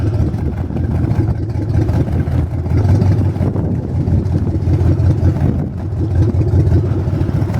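An 8.1-liter Volvo Penta Duoprop engine on a 2008 Chaparral 256SSX boat rumbles steadily and loudly, a deep continuous throaty drone with no voices.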